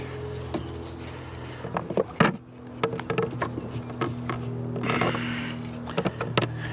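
Honeybees buzzing close by as a package is installed into a horizontal hive, a steady droning hum broken by sharp knocks and taps of wooden parts being handled.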